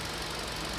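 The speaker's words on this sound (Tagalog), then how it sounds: "pero ang lakas ng vibration ng makina" A Hyundai Accent engine shaking hard and misfiring at idle gives off a constant, loud, dense rumble that fills the whole short stretch, with no talk.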